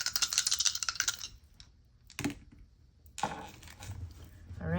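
Astrology dice clatter and rattle as they are rolled, with a cluster of quick clicky hits at the start and then scattered sharp knocks and tumbles, fairly close and moderately loud.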